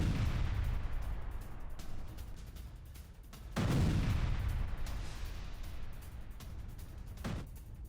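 Loud explosion from a Ukrainian drone attack at night in St. Petersburg, heard as a sustained roaring blast with a sharp second surge midway and a brief later burst, no talk.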